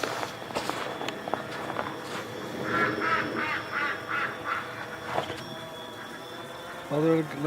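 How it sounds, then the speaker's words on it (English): Ducks on a farm property in winter let out a quick run of quacks in the middle, mixed with shuffling footsteps nearby and a person talking. "Let's see if the ducks will let us get close to them."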